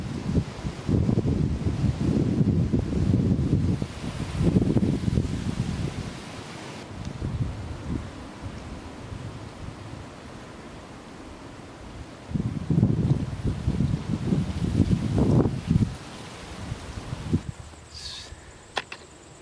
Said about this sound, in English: on the north side of the ridge, and the wind was really whipping, coming from the north